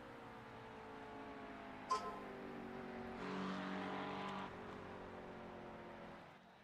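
A GT race car in a sim racing series at Watkins Glen crosses the finish line, its engine drone rising into a brief sharp burst, then swelling again before fading out near the end.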